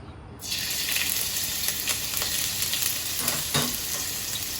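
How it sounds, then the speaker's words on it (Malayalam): Ginger sautéing in hot oil in a pan, a loud, close, continuous sizzle that starts abruptly and holds steady, with a few stirring scrapes toward the end. "ഇനി വേറൊരു പാൻ വെച്ച് നമുക്ക് സാധനങ്ങളൊക്കെ വഴറ്റിയെടുക്കാം."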